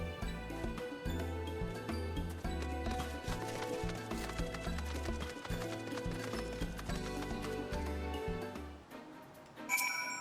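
Horse hooves clip-clopping in Final Fantasy XIV, set under a steady, melodic game music track that dominates throughout, ending with a brief bright chime.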